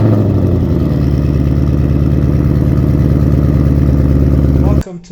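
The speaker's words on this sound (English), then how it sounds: "So start your engines." A 2024 Mustang GT with its 5-liter V8 fires up and settles into a loud, steady, rumbling idle close by, then cuts off abruptly just before the end.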